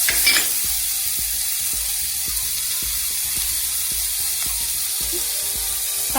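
Chopped vegetables (green chilli, drumstick, potato) going into a sizzling egg curry masala for Kerala egg theeyal, with steady close frying and regular stirring scrapes against the pan, no voices.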